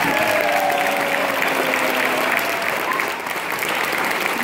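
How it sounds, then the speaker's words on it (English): A crowd of parents and onlookers applauds second- and third-grade schoolchildren, a dense, loud, continuous roar of clapping that dips briefly before swelling again. "can we get one more round of applause for our second graders and our third graders?"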